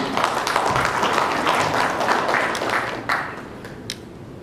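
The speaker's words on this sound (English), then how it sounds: "A round of applause for Mr. A.T. Sharma." An audience at a formal event in Tashkent, Uzbekistan applauds a speaker, a dense round of clapping that gradually thins out, with a few isolated claps near the end.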